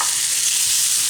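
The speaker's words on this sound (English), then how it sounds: "So my onions have started to soften now, so I'm going to add in the bacon to this pan." Bacon frying in a pan with softened onions, a loud, dense, steady sizzle with constant crackling throughout and no voices.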